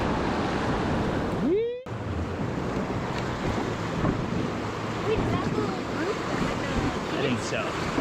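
Rushing whitewater roars steadily through a big rapid on the Colorado River near Moab at high flow, with wind buffeting the microphone and a single rising whistle-like squeal early on.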